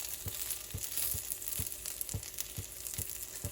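Potato pancake sizzling steadily in a hot frying pan just after being flipped, a continuous crackling fry with soft periodic low taps running through it, no voices.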